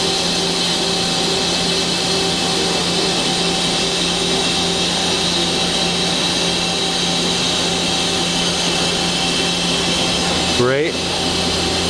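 The spindle of a Mazak Quick Turn Nexus 200 CNC turning center runs with a steady, loud mechanical hum and whir, and a brief rising sweep near the end as a person speaks a single word.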